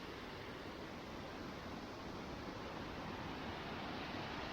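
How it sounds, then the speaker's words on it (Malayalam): Rushing water of Lakkam waterfall near Munnar and Marayoor, a steady, loud broadband roar that fills the whole clip without pause. "ആ കാണുന്ന കേട്ടോ ലക്കം വെള്ളച്ചാട്ടം"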